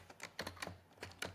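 Soft keystrokes on a computer keyboard, roughly eight quiet, close clicks in an uneven rhythm over a low hum.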